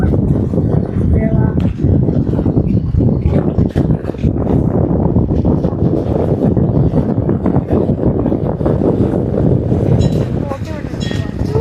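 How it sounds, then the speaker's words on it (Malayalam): Wind buffets the microphone on Perumbalam, an island in Alappuzha, as a loud, constant low rumble that fills the whole stretch, with a voice speaking over it. "കാറ്റുണ്ട്."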